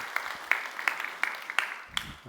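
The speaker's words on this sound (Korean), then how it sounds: "우리 사모님께서 여러분 건강하시도록 박수 한번 해주셔요" A Korean church congregation in Gunsan claps together in a slow, steady beat, about six evenly spaced claps at moderate volume, followed by a brief voice at the end.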